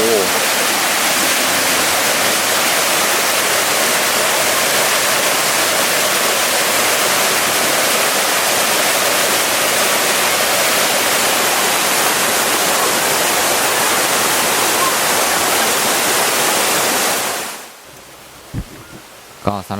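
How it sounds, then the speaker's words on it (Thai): A hot-spring waterfall in Krabi, Thailand pours in a loud, steady, broadband rush that fills the scene close up, then cuts off abruptly near the end, leaving faint quiet sounds. "น้ำตกร้อนนะครับ"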